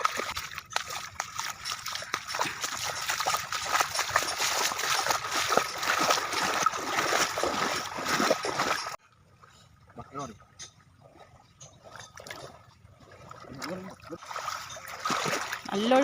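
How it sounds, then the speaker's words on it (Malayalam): Strong river current rushes and splashes around a person swimming back home through the water, a dense continuous wash that cuts off partway, with voices talking over it. "നല്ല ഒഴുക്കുണ്ടല്ലേ."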